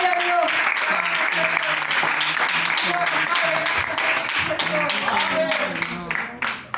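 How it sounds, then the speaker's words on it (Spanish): Loud, sustained applause from a church congregation fills the space, with voices calling out over the clapping before it starts to fade at the end. "Bríndale un fuerte aplauso al Señor"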